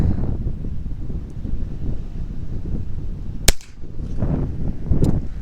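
Little Badger rifle firing outdoors: one sharp, loud crack about midway, with a fainter second shot near the end, set against steady wind noise on the microphone.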